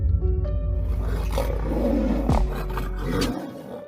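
A lion and a tiger fight, letting out deep, rumbling roars and snarls that overlap continuously, loud and close, with growls swelling and breaking throughout.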